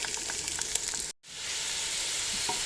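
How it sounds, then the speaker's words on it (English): Onions fry in a little olive oil with a bright, steady sizzle, briefly cut to near silence partway through before the hiss resumes. "just fry with very little olive oil some onions"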